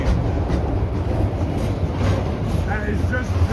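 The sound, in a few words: KCS manifest intermodal freight train passing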